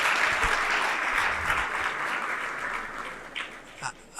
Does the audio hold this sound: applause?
yes